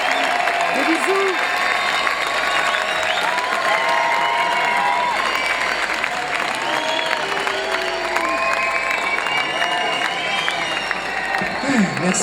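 An audience claps steadily at a French-speaking event celebrating machines, the applause continuous and full throughout, mixed with crowd noise and talk in the background.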